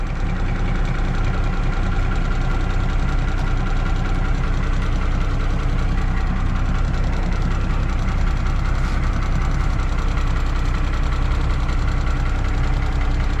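A Cummins 12-valve diesel swapped into a 1965 Ford idles steadily and loud for the whole stretch, a dense low knocking rumble with no talk over it.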